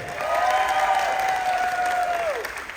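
Cruise ship party crowd on the Carnival Dream applauding a crew officer, dense steady clapping throughout with a sustained tonal hum or voice running over it before fading near the end.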